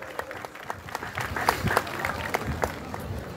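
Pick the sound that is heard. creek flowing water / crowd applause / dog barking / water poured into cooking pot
crowd applause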